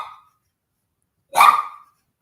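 A worked-up pet dog, a 4-year-old male named Ozzy, lets out one short, sharp bark close by, with a faint trailing sound just before it.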